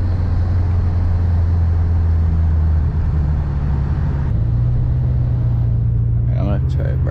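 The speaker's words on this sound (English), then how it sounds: "Car coming." A car approaches and passes on the road, a loud rumbling roar that stays steady and then shifts as it goes by, with a person's voice heard briefly near the end.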